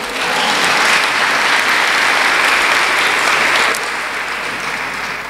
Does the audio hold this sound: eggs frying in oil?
no